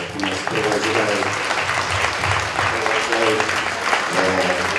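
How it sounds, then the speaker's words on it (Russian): An audience at a tango dance awards event applauds in memory of a tango artist, with steady clapping throughout and voices audible over it. "Давайте почтим его память аплодисментами."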